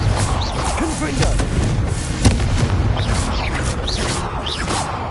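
Confringo fire spell bursts in Hogwarts Legacy, loud booming blasts with crackling impacts over busy game ambience and overlapping spell chatter, one sharp bang standing out near the middle.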